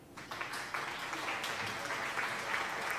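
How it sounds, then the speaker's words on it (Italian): A crowd applauds continuously at moderate loudness for about three seconds, a dense wash of clapping with small surges and no talking over it. "un altro applauso al nostro Marco."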